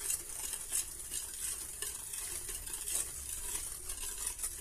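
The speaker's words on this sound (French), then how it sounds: "Donc on mélange" Pastry cream base being stirred after half of the hot milk is poured in, giving a steady soft scraping and swishing from a utensil in a pan, close and continuous with no talking.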